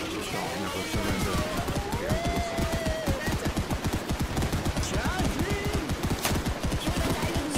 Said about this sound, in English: Snipers are shooting at us,